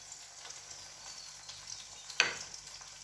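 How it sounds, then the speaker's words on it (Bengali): Poppy-seed fritters frying in a hot frying pan, giving a steady soft sizzle with a brief sharper crackle partway through, close and fairly quiet, with no talking. "ফ্রাই প্যানটা গরম হয়ে গেলে আমি আস্তে আস্তে দিয়ে দেবো বড়াগুলো।"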